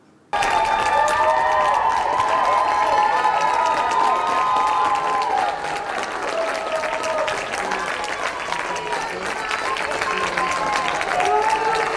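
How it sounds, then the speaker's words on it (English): Enormous applause and cheering fill a Senate confirmation hearing room as RFK Jr. enters; a dense, continuous roar of clapping with shouts and voices rises abruptly after a short quiet start and holds loud throughout. "This is him entering the meeting to enormous applause."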